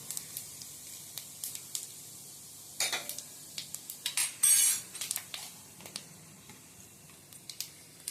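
Spiced masala drops into hot oil in a pan for chicken gravy, with a brief sizzling burst among repeated light metal spoon clinks and scrapes against the pan, close by and with no talking.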